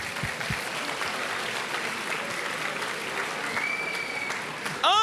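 Church congregation giving a round of applause during a sermon, dense steady clapping from a large crowd filling the space throughout, with a brief bright tone and a louder burst at the close.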